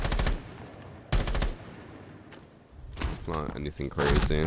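Short bursts of gunfire from a rifle in the video game Rainbow Six Siege, two loud bursts near the start, then someone talks over game sounds.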